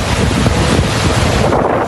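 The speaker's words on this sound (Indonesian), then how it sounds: "terjangan angin kencang menciptakan gelombang tinggi yang mengguncang deretan perahu di sepanjang pesisir." Strong wind gusts roar across the coast at Tuzla, buffeting the microphone in a steady rush alongside high waves rocking a row of moored boats, with no voices.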